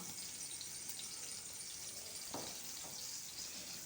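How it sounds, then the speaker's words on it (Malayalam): Crushed shallots sizzle in hot coconut oil in a pan, a steady close frying hiss throughout with a soft stir or clatter partway through, no voices. "അത് നന്നായിട്ടൊന്ന് ഫ്രൈ ആയി വരുമ്പോൾ"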